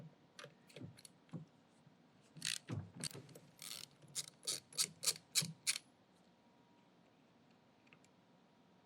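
A 3/4 inch lock nut comes off the drive wheel of a Tennant B5 machine with a run of sharp ratcheting clicks, sparse at first, then quick and steady, stopping abruptly near the end. Close and fairly quiet; no talking.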